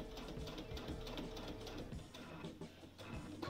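A sewing machine stitches along a quilt binding, a steady quiet mechanical whir with a fast needle rhythm running continuously, close and alone.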